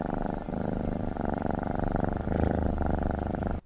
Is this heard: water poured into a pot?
no